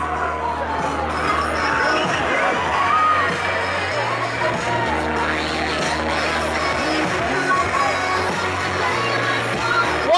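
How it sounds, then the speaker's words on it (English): A big crowd lines a July 4th parade route in Loveland, Ohio, cheering, whooping and shouting with children's voices mixed in. The noise is steady and continuous throughout, with chatter and music running underneath. "What a big crowd for the Premier Dance and Tumbling."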